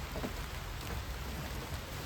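Steady rain pours on an island campsite at Pulau Karimun Anak, a dense continuous patter and hiss filling the short stretch, with no voices.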